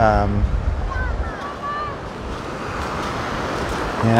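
Ocean waves washing up on a beach, a steady broad surf wash with wind buffeting the microphone, a few faint bird calls and a brief voice at the start and end.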